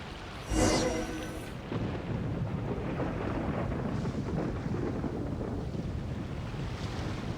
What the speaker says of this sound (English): Whoa! Where'd that thunder come from?